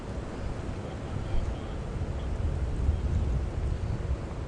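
Wind buffeting the microphone outdoors at Djuma Game Reserve during an afternoon safari drive, a steady low rumbling roar with gusty swells throughout, no talking.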